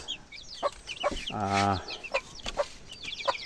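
Broiler chickens in a small screened coop give short, scattered clucks, with one longer, louder drawn-out call in the middle, all close by and without talk.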